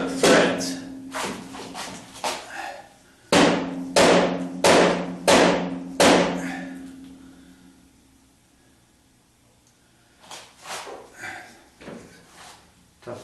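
Hammer blows driving a bolt out of a 1976 Corvette lower control arm, a burst of loud, ringing metallic strikes in quick succession, then a pause and a softer set of taps.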